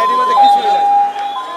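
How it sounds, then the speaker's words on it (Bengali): An ambulance siren sounds near a plane crash site in Bangladesh, a loud, close, sustained tone that steps down in pitch and then back up over a second and a half. "একদিকে অ্যাম্বুলেন্সের পর অ্যাম্বুলেন্স ছুটে চলেছে বিভিন্ন হাসপাতালে"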